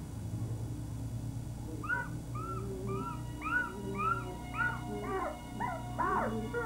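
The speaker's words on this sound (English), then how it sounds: "the puppy underneath made what sounded to me like suffocating sounds" Puppies trapped down a narrow 6-inch well whimpering, a series of thin high yelps and whines that grow more frequent, faint and hollow over a low steady background hum, no talking.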